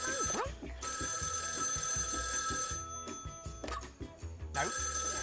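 A telephone rings repeatedly on a noisy children's TV show set, its bright electronic trill sounding in bursts over background clatter and crowd noise, fairly close and prominent.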